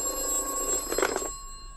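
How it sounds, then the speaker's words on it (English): An old-fashioned telephone bell rings in a short, loud burst inside an office, then cuts off abruptly into quiet. "It's Snowy White on the phone urgently."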